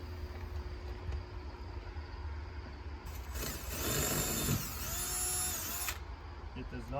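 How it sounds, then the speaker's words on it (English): A power drill with a masonry bit whines steadily for a few seconds, boring through about 3/4 inch of hard stucco, with a low background rumble before and after. "with this masonry bit, this is what we're going to use to drill through the stucco."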